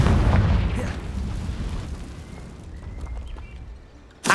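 A Confringo fire spell explosion in the video game Hogwarts Legacy, a loud booming burst at the start that decays into a fading rumble, followed by a sharp new impact at the very end.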